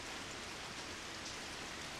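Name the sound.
rain falling in Code Realize video game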